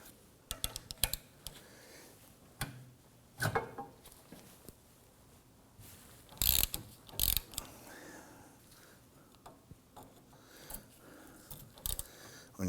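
A ratchet with an 18mm socket loosens the lower sway bar end link nut on a 2003-2014 Volvo XC90 3.2L, giving bursts of rapid clicking with clanks and pauses in between, close and fairly loud.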